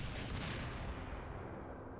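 A white phosphorus grenade effect from Garry's Mod, in Day of Infamy style, bursts once with a low, distant-sounding thud and a brief crackle, then fades into a dull rumble.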